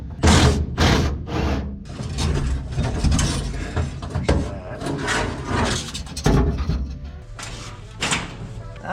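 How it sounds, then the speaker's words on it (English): A ratchet wrench clicks in quick bursts while turning a bolt during a custom off-road rollback truck build, with several loud metallic knocks at the start followed by steady ratcheting and shop clatter. "Or probably a ratchet on that side."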